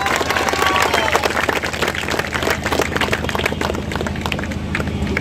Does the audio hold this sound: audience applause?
yes